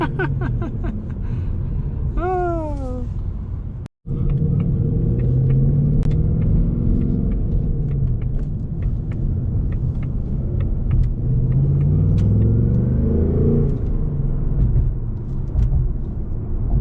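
A 2024 Mustang GT 5.0 with a six-speed manual rumbles loudly and steadily with rising and falling engine revs, a brief dropout near the start, and a short voice early on.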